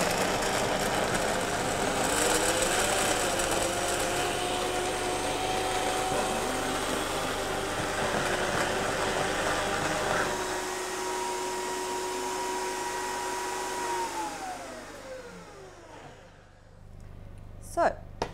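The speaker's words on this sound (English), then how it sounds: "We just need to blend it all the way until it's nice and smooth." A blender whirs soaked cashews and vanilla bean into a smooth cream, a loud steady motor drone with a pitched whine that holds, then winds down and stops near the end.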